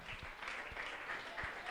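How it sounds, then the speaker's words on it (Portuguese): Faint applause from a church congregation during a sermon, a soft steady wash of clapping heard from a distance with a few louder thumps mixed in. "Pode aplaudir."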